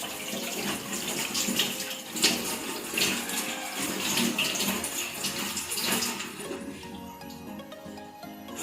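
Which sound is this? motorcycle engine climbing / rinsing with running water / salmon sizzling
rinsing with running water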